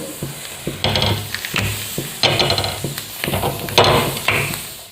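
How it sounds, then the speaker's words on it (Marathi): Halved green chillies roasting in a hot pan for Khandeshi thecha, with a steady sizzle and repeated scraping, stirring strokes close by. "हे बघा आता आपण मिरच्या भाजून घेऊ"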